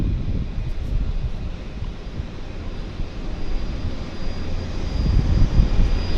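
A floatplane in a Twin Otter-style colour scheme at Vancouver's downtown harbour, its engine a steady low drone that swells slightly toward the end, mixed with wind buffeting the microphone and no talking.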